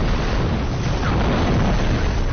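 A film explosion after a gun is fired at leaking oil: a loud, dense, roaring boom that fills the whole stretch and holds heavy and continuous with no quiet moments.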